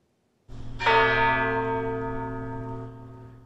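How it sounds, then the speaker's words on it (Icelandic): A single church bell at St. Michael's church in Kyiv strikes once at midnight, then its deep, rich tone hangs and slowly fades with no voices. "Kirkjuklukkur hringdu á miðnætti á Sófíutorgi við kirkju heilags Mikjáls."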